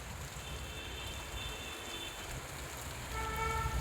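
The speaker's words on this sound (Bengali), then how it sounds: "জোরে বৃষ্টি নেমে গেছে, আমাকে নেমে যেতে হবে এবার।" Heavy rain pours down on a rooftop garden as a steady, dense hiss that swells slightly louder toward the end.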